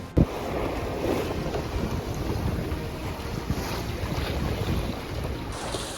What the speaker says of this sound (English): The sea states seem to be confused with waves coming from different directions.